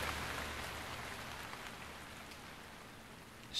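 Rain pours down in Zelda: Breath of the Wild on Wii U, a steady, soft hiss of falling drops that eases slightly over a few seconds, with no voices.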